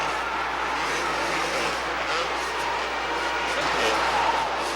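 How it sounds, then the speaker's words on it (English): Kawasaki motocross motorcycles race around a dirt course, a faint, distant buzz of engines rising and falling under a steady background wash. "the lead rider on a Kawasaki shows great skill as he maneuvers his way around the course"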